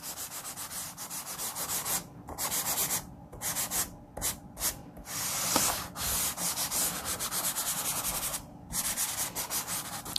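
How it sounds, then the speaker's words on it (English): Chalk pastel rubbed over the back of a paper image, a continuous scratchy rasping in rapid back-and-forth strokes, close and fairly loud, broken by a few brief pauses. "rub chalk anywhere that my image is here on the back side"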